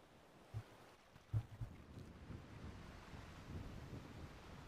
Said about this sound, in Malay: kuat sangat tu punya angin dia tu